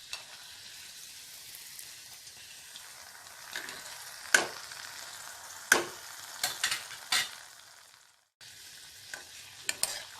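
Pumpkin gharge vadas fry in hot oil with a steady, close sizzle, broken by a few sharp clinks and scrapes from a utensil and a brief drop in the bubbling near the end.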